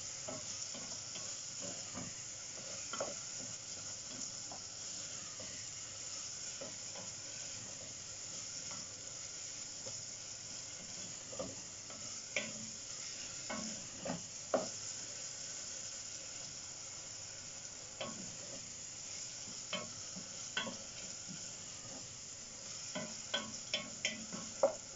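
Spices being stirred into food in a pan make a soft steady sizzle, with scattered scraping clicks from the utensil growing more frequent toward the end, quiet and close.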